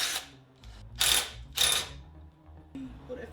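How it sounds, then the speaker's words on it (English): A hand ratchet backs out two bolts holding a motorcycle fuel tank, giving three close, crisp bursts of rapid clicking separated by short quiet gaps, followed by faint handling noise. "we're gonna start off by taking these 2 bolts off here."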